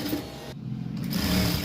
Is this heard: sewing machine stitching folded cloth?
yes